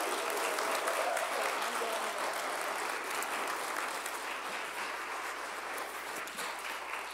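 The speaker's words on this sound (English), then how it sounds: "let's give everybody a round of applause" A congregation at a live worship service breaks into sustained applause, a broad, even roar of many hands clapping that holds steady throughout with little other sound.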